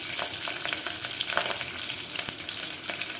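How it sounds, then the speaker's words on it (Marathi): Green chillies and garlic frying in hot oil for a masoor dal tempering, a steady close sizzle with crackling pops throughout and no voices. "याला मिरचीला मस्तपैकी आपण तेलामध्ये परतून घेणार आहोत"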